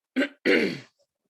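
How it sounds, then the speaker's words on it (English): Someone clears their throat twice up close, a short rough grunt followed by a longer gravelly rasp, then silence. "why am I clearing my throat so much?"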